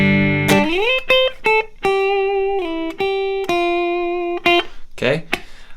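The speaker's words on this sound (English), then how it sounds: "I'm playing my Telecaster Deluxe into a matchless Clubman" A clean electric guitar, a Telecaster Deluxe played through a Matchless Clubman amp, sounds a series of sustained single notes and slides, each ringing clearly with brief gaps between them, close and fairly loud.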